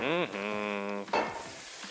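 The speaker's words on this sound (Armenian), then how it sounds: "մեր սունկը շատ պետք չի տապակել, մոտավոր մի 2-3 րոպե շատ բարձր ջերմաստիճանի տակ" Mushrooms fry in a hot pan over very high heat, giving a steady close sizzle with stirring scrapes, while a voice talks over the cooking.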